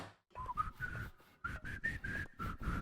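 Someone whistles a short tune alone, a run of clear, steady notes in quick succession with a brief pause partway through.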